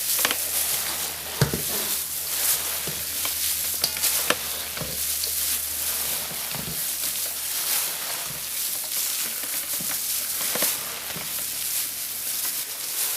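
Cabbage eggroll filling stirred and tossed in a pan, soft sizzling under scattered scraping and clinking of utensil on metal at an irregular pace, close with no speech.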